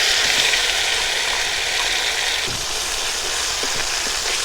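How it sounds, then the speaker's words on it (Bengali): Ground spice paste sizzles hard in hot oil with dried chillies and whole cumin for a Bengali mustard drumstick chorchori, a loud, close, continuous hiss and crackle with a few faint knocks and no voices. "এবার আমি বাটাগুলো মশলাটা দিয়ে দেবো তেলের ভিতর।"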